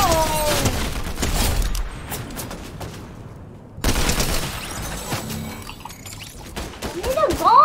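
Gunfire in the battle royale game Fortnite comes in bursts of rapid shots with sharp cracks and breaking sounds, stopping briefly before starting again, while a player talks over it.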